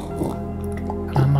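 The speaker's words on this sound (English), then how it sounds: "I'm gonna drink." A character in the farming video game Moon Farming drinks water, giving a short, close series of wet, squishy gulping drips over a steady low background hum.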